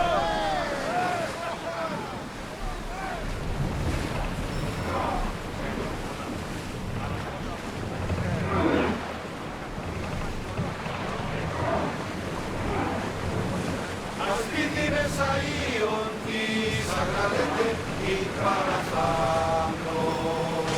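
Sailing ship crossing open sea in the video game Assassin's Creed Odyssey: a steady wash of wind and waves fills the scene, with creaking and game sounds layered on top and brief tonal calls near the end.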